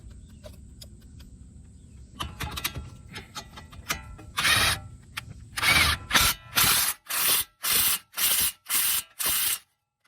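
A strut nut and bolt on a 2012 Nissan Maxima are tightened, first with scattered clicks and scraping of tools, then a series of about eight loud, evenly spaced bursts from a power impact tool, close up.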